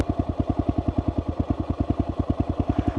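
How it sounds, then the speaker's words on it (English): A dirt bike engine strains in first gear with fast, evenly spaced throbbing pulses, a close, loud chugging that stays steady and rhythmic without any talk. "Okay, the bike's starting to pull right here. You can hear the engine changing noises too."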